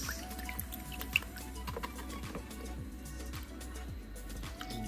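Faint drips and trickles come from coral being rinsed in aquarium tank water, over a steady low hum.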